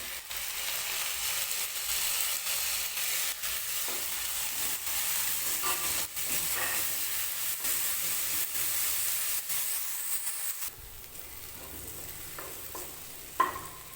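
Tomatoes and green chillies fry in a pan on a home kitchen stove, a constant close sizzle and hiss that eases slightly near the end, with a short utensil knock; no one talks.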